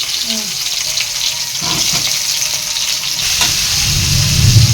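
Tomatoes and onions fry in a hot pan with green chillies, giving a loud, steady sizzle and hiss with stirring scrapes throughout, growing slightly louder toward the end.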